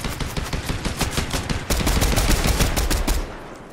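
Rapid bursts of video game gunfire, dense automatic shots crackling continuously and growing louder midway before tapering off, with no talk over them.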